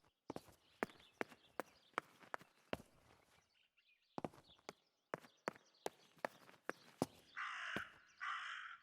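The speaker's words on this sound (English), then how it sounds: "That raven is making a big fuss." In the video game Martha is Dead, a series of sharp, evenly spaced taps gives way to a raven's harsh, loud caws near the end, close and unaccompanied by talk.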